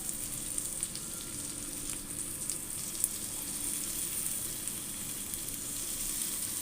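Skewered paneer tikka fries on a hot tawa, a soft, steady sizzle close by with a few faint ticks and one small clink, no voices.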